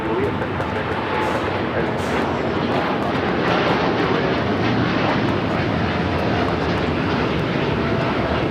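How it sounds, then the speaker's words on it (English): A United Airlines Boeing 787-10 Dreamliner on its takeoff roll from runway 25 Right at Los Angeles International Airport, heard as a loud, steady, broadband jet engine roar that holds throughout, with speech over it. "That was United Airlines Flight 39 taking off to Tokyo Haneda on the 787-10 Dreamliner."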